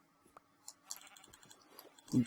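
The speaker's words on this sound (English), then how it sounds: "I'm going to go ahead and kill these sheep" Minecraft sheep bleat once at the end, loud and close, after a stretch of faint clicks and soft game noises with no talk.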